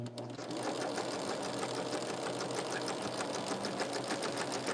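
A sewing machine stitches quilt sashing in one continuous, close, rapid whirring run from start to finish, steady and fairly loud with no voices.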